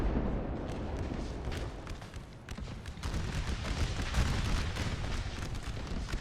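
Artillery and musket fire crackle and boom in a Napoleon Total War American Civil War mod multiplayer battle, a continuous dense volley of shots and deep rumbling blasts, fairly loud and steady throughout.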